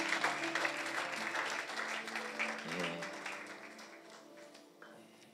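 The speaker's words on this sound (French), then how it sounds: "On peut acclamer le Seigneur et s'asseoir." A church congregation applauding the Lord, dense sustained clapping that gradually fades toward the end, with some background music.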